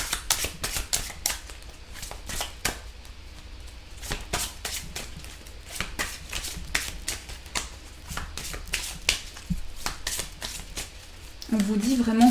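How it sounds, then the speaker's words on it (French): Tarot cards are shuffled in a steady run of quick, crisp riffling taps at close range, repeating for many seconds, with a voice briefly starting near the end. "on va rajouter quelques cartes."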